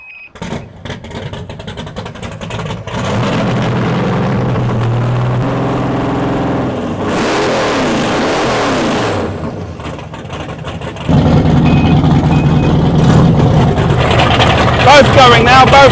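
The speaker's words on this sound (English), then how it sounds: "You want to hear the engine start, yeah?" A boat's engines crank and catch, building into a steady loud mechanical drone that rises again later as both engines run together, with people talking over the noise throughout.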